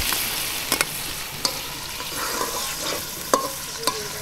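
Onion, garlic and spice paste fry in a pan outdoors by a pond, making a close, continuous sizzle broken by quick metallic spatula clicks and scrapes at irregular intervals. No voices.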